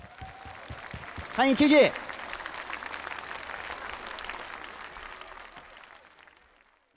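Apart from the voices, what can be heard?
audience applause welcoming a guest on stage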